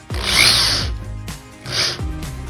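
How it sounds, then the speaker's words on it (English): A screw is turned by hand through a board while a nut is held on the other side, giving two separate bursts of scraping, ratcheting friction, each ending with a short rattle, close and fairly quiet. "I have to hold on to the nut on one side, and then on the other side of the board, I tighten it."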